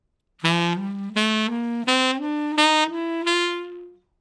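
A jazz saxophone climbs the bebop scale with tongued articulation. Six or so detached notes step upward in an even rhythm, played clearly and alone.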